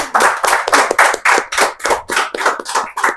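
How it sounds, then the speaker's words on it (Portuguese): A church congregation claps in unison, a dozen or so sharp, rhythmic hand claps at a brisk steady tempo, loud and close with no talking over them. "Aplauda ao Senhor Jesus."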